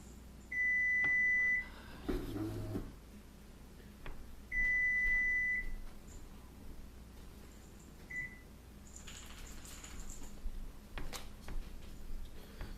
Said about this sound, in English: my oven was going off